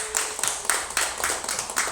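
A church congregation gives applause for Nakyung at a small worship service, bright clapping that pulses about every quarter second in a steady, moderately close rhythm with no talking over it.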